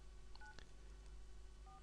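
Telephone keypad dialing tones from a phone handset, a few short faint beeps spaced apart over a steady low hum, with no speech.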